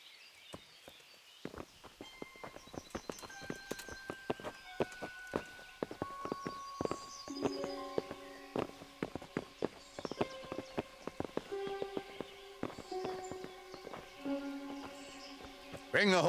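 Horse hooves clip-clop in the medieval role-playing game Kingdom Come Deliverance, an irregular run of sharp, close strikes with a musical score playing beneath and voices heard now and then.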